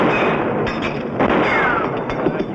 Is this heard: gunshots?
yes